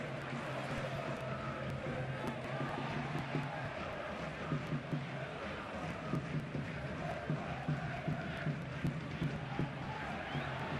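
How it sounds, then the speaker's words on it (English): A football stadium crowd at a Liga match between Real Zaragoza and Deportivo de la Coruña keeps up a steady, dense roar, with a commentator's voice running over it throughout. "The crowd getting themselves involved now"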